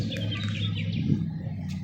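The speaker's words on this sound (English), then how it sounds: "The birds are chirping." Birds chirp outdoors on a sunny barbecue day, a few short high tweets scattered over a steady low background hum, moderately distant and without talk.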